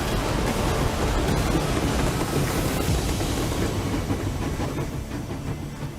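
A train in the Metro Exodus video game trailer clatters along with a dense, loud rumble and rhythmic clickety-clack that gradually eases, with no speech.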